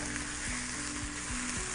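Chopped onions sizzle steadily in a hot pan, a dense, even frying hiss that runs unbroken from start to finish with no voices.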